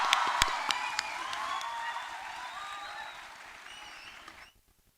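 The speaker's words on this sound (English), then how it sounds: "Please join me in giving a warm round of applause" An audience at an international chartered accountancy students' conference applauds a speaker coming to the stage, with full clapping, a few sharp close claps and whoops, fading gradually before cutting off.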